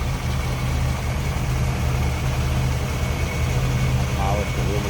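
A small block Chevrolet V8 with HEI ignition and a blower on top idles steadily in a 1954 Chevrolet Sedan Delivery street rod, a smooth low rumble running throughout while a person talks over it.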